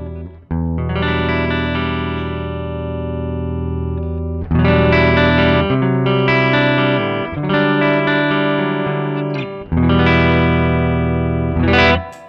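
Electric guitar with a clean tone from the neck single-coil pickup through a Joyo pedal, playing sustained chords in several strummed phrases, loud and alone with no talking.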